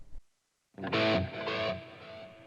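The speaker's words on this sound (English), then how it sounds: "I really like the mod chorus echo, but in stereo" An electric guitar played through a Line 6 Helix with a JCM/JVM-style amp and stereo mod chorus echo delay sounds a short distorted chord, then a repeated echo that fades out, preceded by a brief muted pluck.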